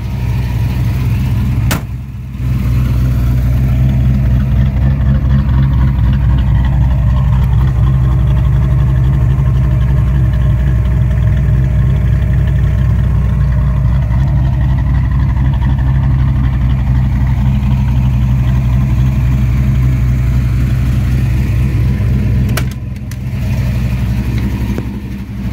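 Fox Body Ford V8 with Terminator X fuel injection in an automatic car, idling with a lopey, choppy cam; steady loud rumble throughout with a rhythmic lope, close by and with no talk.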